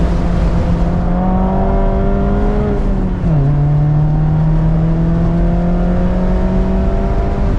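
A 2024 ND3 Mazda MX-5 Miata Grand Touring with an aftermarket exhaust, heard from the cabin on track as a loud, steady engine drone that dips briefly with a gear change before settling again.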